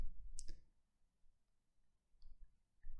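A computer mouse gives a sharp close click followed by a few fainter clicks, alone against a quiet indoor background.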